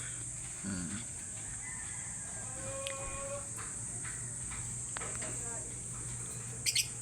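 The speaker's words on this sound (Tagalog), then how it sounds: "Yan mga ibon ko." Pet African birds give faint, scattered chirps and short calls against a steady background hum, with no voices over them.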